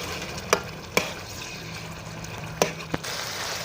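Finely chopped large tomatoes are added to garlic ginger paste frying in a pot, giving a faint, low sizzle with a few sharp clinks of a spoon against the pan.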